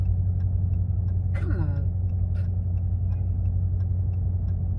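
A 2021 Dodge Charger R/T engine rumbles loud and close in a steady, unbroken low drone, with a brief voice cutting in partway through.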